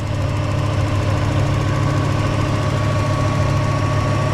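A Nissan Z car engine idles steadily in a garage, a loud, even low rumble with a constant hum throughout and no talking.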